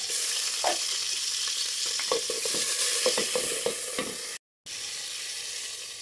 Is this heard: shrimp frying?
yes